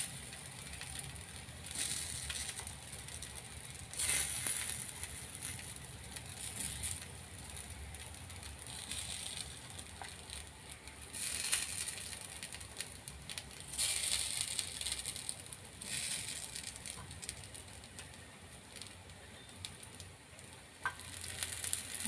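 Vadis shallow-frying together in oil on a hot tawa, a steady close sizzle with crackling bursts throughout and no talk.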